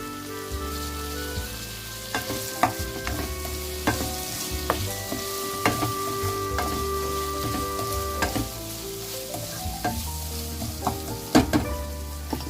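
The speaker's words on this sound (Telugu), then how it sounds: "చక్కగా మెత్తగా వేగిపోయిన దాంట్లో ఇప్పుడు ఈ నత్త ముక్కలన్నీ వేసేసుకుంటున్నాను" Snail meat pieces dropped into a pan of soft fried tomatoes sizzle and crackle steadily, with scattered louder pops and spoon stirring clatter throughout.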